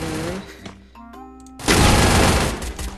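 Gun firing in Free Fire, a burst of loud close shots breaking in sharply after quieter game tones and carrying on to the end.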